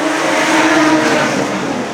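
Modified sedan race cars roar steadily through a heat race, their engines loud and continuous with a rough, sustained drone and no break in the noise.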